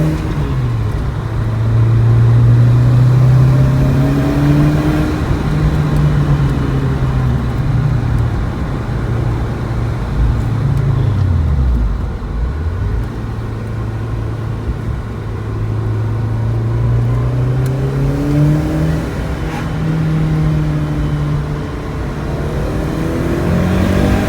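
Lancia Delta Integrale Evolution 2 engine, close and loud, revving up and dropping back repeatedly through several rising and falling sweeps, with a sustained idle-like drone in between and no talking.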